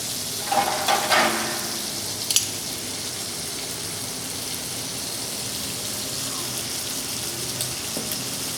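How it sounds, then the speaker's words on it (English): Beef sizzles steadily in a hot pan, a continuous hissing crackle with a few brief clatters early on. "You want to let it sizzle for a while."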